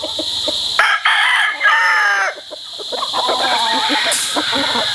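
A gamefowl rooster kept as farm broodstock crows loudly and close, a long harmonic call that breaks off briefly and resumes, with faint farm background behind it.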